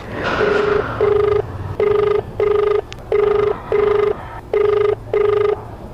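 An outgoing phone call rings unanswered, a clear electronic ringback tone repeating in about eight short, evenly spaced bursts with brief gaps, close and loud.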